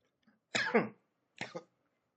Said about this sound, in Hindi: मेरी खांसी ठीक नहीं हो रही है